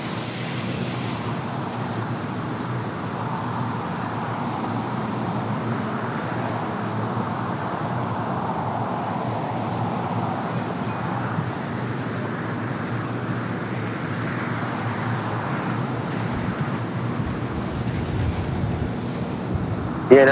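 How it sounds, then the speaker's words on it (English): A WestJet Boeing 737-800 passing near LAX produces a steady, broad jet roar that holds level for about twenty seconds, distant and unbroken, with no voices and a brief bump at the end. "It is WestJet flight 1102"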